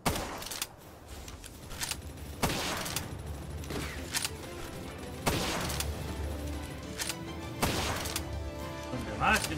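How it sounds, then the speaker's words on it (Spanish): Several heavy shotgun blasts in the video game PalWorld, fired singly at irregular intervals, each a sharp loud boom with a short decay, under someone talking. "Voy a tirar de escopeta todo lo que pueda y así me guardo la munición buena para luego"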